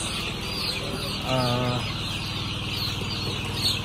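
A flock of chicks awaiting debeaking, a steady mass of close clucking and peeping over a low hum, with a louder burst of calls midway.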